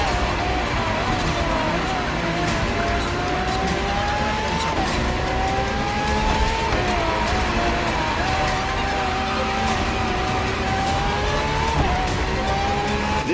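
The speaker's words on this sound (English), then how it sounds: "For this second lap, you'll be driving the FXXK." A Ferrari FXXK supercar races in The Crew Motorfest, its engine note climbing and dropping through gear changes while tires squeal now and then, loud and continuous throughout.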